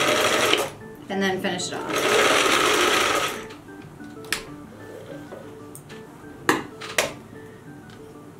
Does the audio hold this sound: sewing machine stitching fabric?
yes